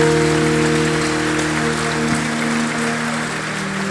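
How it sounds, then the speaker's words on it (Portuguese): Congregation in a church during a Sunday morning service clapping together, a steady continuous patter of many hands over sustained background music, without a break for the whole stretch. "Uma salva de palmas a Jesus, Ele merece."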